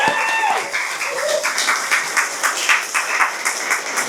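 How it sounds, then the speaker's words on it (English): Audience applause at an album launch in an arts studio, steady clapping from a room of people with a few whoops and voices at the start, continuing evenly for a few seconds. "let's give her a big whopper round of applause to get the night going."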